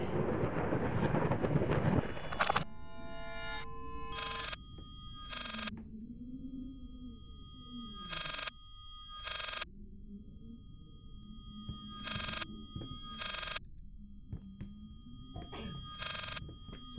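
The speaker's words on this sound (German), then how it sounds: "Das ist ein rückwärts abspielendes klingendes Telefon" A telephone ring played backwards in the horror game Layers of Fear: a noisy swell gives way to repeated reversed ring bursts that rise into clipped endings, spaced about every two seconds over a low droning, warbling backdrop.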